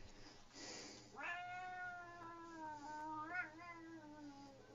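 A cat being petted lets out a drawn-out meow that rises and falls, with a faint breathy sound just before it, quiet and close.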